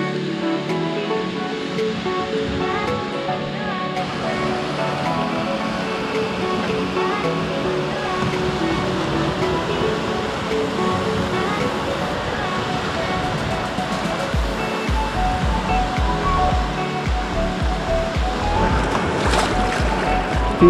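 Sea waves roll and wash onto a Greek beach at Sarti, a steady loud surf rumble that continues throughout with surges building toward the end.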